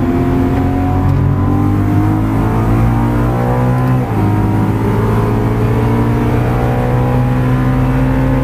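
A BMW M3 V8 at full throttle on the Nürburgring, loud and close, its engine note climbing steadily through the revs with a brief dip around a gear change before pulling hard again.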